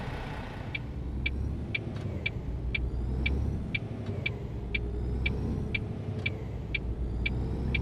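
Truck engine in On The Road Truck Simulator, a steady low rumble with a regular ticking chime, likely a turn indicator, repeating about every half second throughout.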